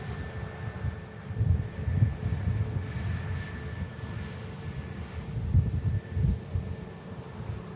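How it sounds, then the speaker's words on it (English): An Egypt Air Neo airliner arriving from Cairo touches down at Manchester Airport, a steady distant jet roar with gusting wind buffeting the microphone, no voices. "Next aircraft to touch down. Beautiful Egypt Air."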